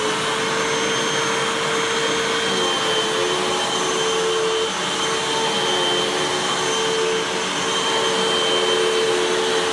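A Hoover WindTunnel 2 Rewind Pet upright vacuum cleaner runs on low carpet with paper towel bits, a loud steady motor whine with a constant tone throughout and no talking.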